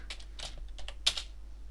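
Quick clattering keystrokes on a computer keyboard, a short burst of close, crisp taps with one sharper key strike near the end, heard alone without talk.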